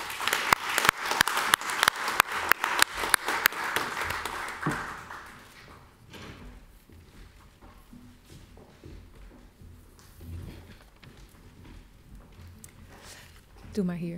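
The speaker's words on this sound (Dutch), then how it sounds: "Graag een applaus voor de sprekers" Applause for the speakers at a Dutch-language event marks the first five seconds with dense, loud clapping from an audience. It fades into shuffling, footsteps and quiet talk.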